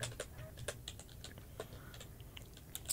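Quiet clicks of typing on a computer keyboard while playing the old-school online game EverQuest, irregular light keystrokes in short bursts, close and faint.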